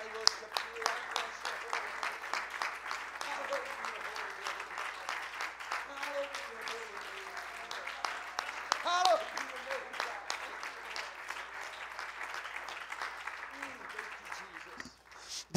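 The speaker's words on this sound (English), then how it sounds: "would you give God a hand clap of appreciation?" Church congregation at a Pentecostal service applauding steadily with dense, continuous clapping that holds for the whole stretch, with a few voices and a brief shout rising over it.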